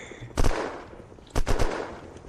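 Bursts of automatic gunfire in the video game Unturned during a raid on an underwater base, one short volley followed a second later by a longer rapid string of shots, fairly close with no talk.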